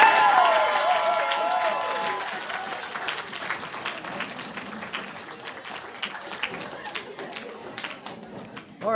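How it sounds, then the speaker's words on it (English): Audience applause at a college 2D animation livestream event, clapping that starts fuller and thins out over several seconds, with voices talking underneath. "Another round of applause,"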